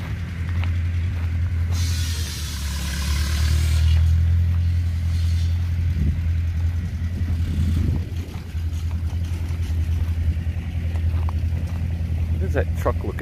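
Tractor engines running at an Allis Chalmers collectors' show in Mechanicsburg, Pennsylvania, a loud low steady rumble close by, with a crowd murmuring underneath.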